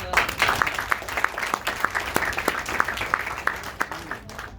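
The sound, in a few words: brief audience applause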